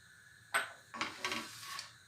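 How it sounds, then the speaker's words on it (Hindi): Dry fruits roasting in desi ghee in a pan give a few quiet, close clinks and scrapes in short, uneven bursts. "अब इसमें ये खुशक मेवा जात रोस्ट करेंगे"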